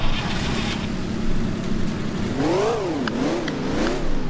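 A BMW X5's engine in the City Car Driving simulator game hums steadily and then revs up and down twice in quick swells, with a synthetic, slightly odd tone.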